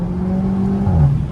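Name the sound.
car engine revving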